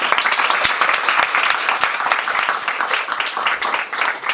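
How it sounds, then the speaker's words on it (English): An audience at a talk breaks into loud, dense applause, a close, continuous wash of many hands clapping with a few sharp individual claps standing out throughout. "Let's give a big round of applause for JC Doss."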